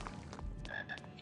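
A frog in a Harry Potter video game gives a short, faint croak over a quiet background hum.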